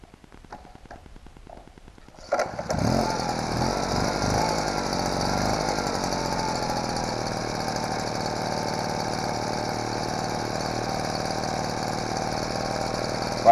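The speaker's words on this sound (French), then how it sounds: "maintenant le moment que tu attends avec impatience, je me doute, le démarrage du caddie." After a few quiet clicks, a 1974 Cady M3 moped engine fires up abruptly and keeps running at a steady, buzzy two-stroke idle nearby for about ten seconds.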